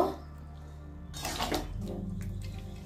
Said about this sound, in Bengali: এবার ঝোলের জল দিয়ে দিলাম